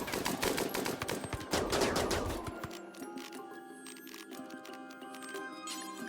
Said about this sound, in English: I'm allowing Wendy to fire at will.